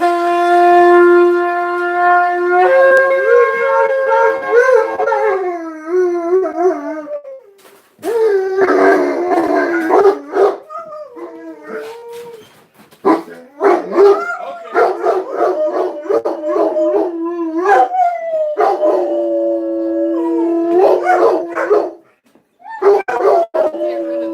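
A pack of dogs howls in long, wavering, loud cries close by, with a few barks and whimpers breaking in as the howls rise and fall in overlapping bursts.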